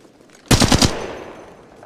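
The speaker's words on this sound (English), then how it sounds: "Shots fired." Automatic gunfire in the mobile battle royale game Apex Legends Mobile: one loud burst of about four rapid shots, then a decaying tail with nobody speaking.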